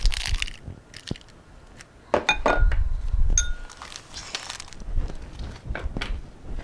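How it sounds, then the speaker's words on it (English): Eggs cracked into a bowl for wonton glue, with sharp clinks and taps of shell on the bowl edge, then a few louder knocks and light rattling of the shell pieces nearby, no voices. "we are going to get our eggs cracked so that we can use it as the glue to our wonton"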